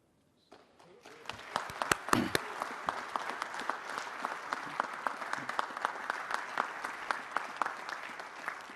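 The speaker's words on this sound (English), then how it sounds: "please join me once again in a round of applause for Lieutenant General Dale" Applause at a military leadership award presentation begins after a brief quiet moment, swelling quickly into steady clapping from a sizeable audience, with distinct sharp claps standing out over the dense wash.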